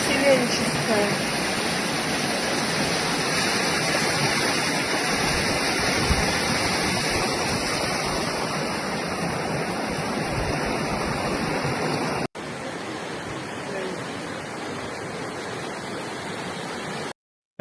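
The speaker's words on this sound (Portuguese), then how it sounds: "Realmente dá para ver aqui ruas alagadas, virou uma cachoeira a rua ali" Floodwater gushes down a flooded city street after heavy rain, a loud, steady roar of rushing water that continues throughout without a break.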